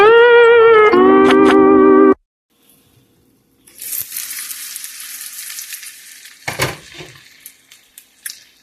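An egg pizza with cheese cooking in a pan, a moderate crackling sizzle with a few sharper pops, preceded by a loud sustained musical tone that cuts off.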